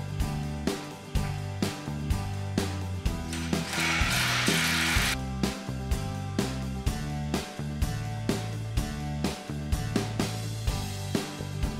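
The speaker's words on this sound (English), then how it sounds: "running a 3/8" screw through the grounding wire into the frame" A 3/8-inch screw driven through a grounding wire into a boat trailer frame: loud, rhythmic mechanical ratcheting clicks repeating steadily close by, with a brief burst of harsher whirring in the middle, no voices.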